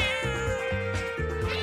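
A scared house cat meows in a long, drawn-out, tonal cry that repeats over under two seconds, close and fairly loud against a steady sustained tone and low pulsing background.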